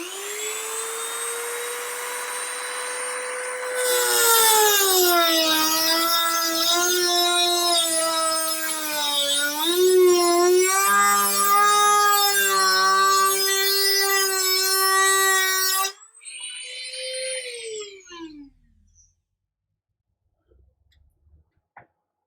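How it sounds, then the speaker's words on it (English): A Dremel rotary tool spins up with a high, rising whine as a cheap cutting wheel bites into an eMac computer part, pitch wavering under load for about twelve seconds before it cuts out and winds down, followed by faint clicks. "Alright, well I guess we're getting the Dremel."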